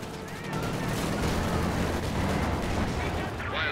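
Anti-tank gun fire in the World War II strategy game Company of Heroes 2, set in urban warfare, a dense, steady roar of battle with heavy booming shots over continuous rumbling, loud throughout and with a faint voice mixed in.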